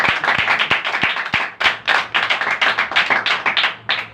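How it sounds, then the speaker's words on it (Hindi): Loud, fast hand clapping from a congregation at a sermon, sharp rapid claps running steadily with a few heavier thumps early on. "एक बार जोरदार ताली"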